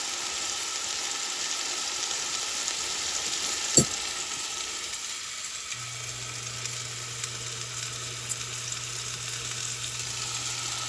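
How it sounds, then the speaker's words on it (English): Beef roast sears in a pot, giving a steady, soft hiss of sizzling fat throughout, with one sharp clink partway through and a low hum joining later. "And you can hear it sizzling."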